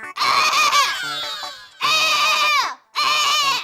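A man imitates a goat's bleat in three loud, close, quavering cries separated by short breaks, each one harsh and wobbling like a nasal baa.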